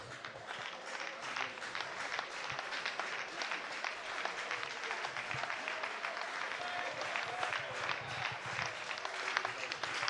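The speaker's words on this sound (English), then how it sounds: "A raucous crowd here at Labatt Park, cheering on their Majors." A raucous crowd cheers and claps at a minor-league baseball game at Labatt Park in London, a steady rattling wash of applause and noise heard at a distance without pause.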